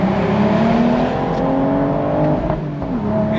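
A 2025 BMW Z4 M40i with a 6-speed manual accelerates hard in second gear, its engine note loud and close, rising steadily under throttle without talk.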